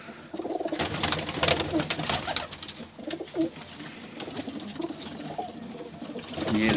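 Pigeons cooing in a cage at a pigeon club, soft repeated coos and rustling heard close by with scattered chatter from other birds.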